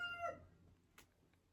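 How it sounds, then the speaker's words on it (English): A rooster crows briefly in the background, its call fading out after a fraction of a second, followed by faint room noise. "that was my rooster. He's just trying to say hi."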